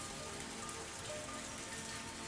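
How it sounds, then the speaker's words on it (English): Rain falling in a visual novel video game, a steady, soft hiss of drops on surfaces, continuous and even with no other sounds. "It didn't look like the rain was going to stop anytime soon."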